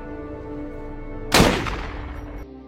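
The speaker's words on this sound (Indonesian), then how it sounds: "Sersan Lastman terpaksa menembak anjing tersebut untuk mengakhiri penderitaannya." A single loud gunshot from a film scene in which a police sergeant shoots a dog, a sharp close blast at mid-clip followed by a short decaying echo over a steady low background, with no talk.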